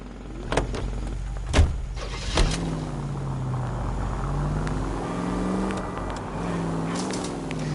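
A commandeered car in the L.A. Noire game drives off, with a few sharp thumps and clunks at first, then a steady low engine drone that rises and falls as it accelerates, no speech.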